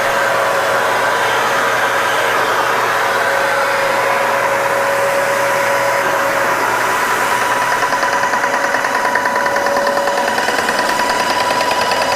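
A paint sprayer drones loudly and steadily with a constant whine for the whole stretch, and no one speaks.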